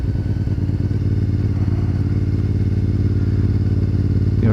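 Race motorcycle with a clutch fault coasting back into the pit area, a steady, loud mid-pitched engine drone with a rattling clatter running throughout, no voices.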